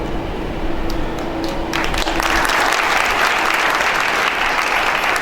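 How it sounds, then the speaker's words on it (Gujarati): Audience applause in a lecture hall during a motivational talk at a Guinness World Records attempt event, a dense clapping crowd that swells louder after the first couple of seconds and holds steady. "જોરદાર તાળી ઉપાડો"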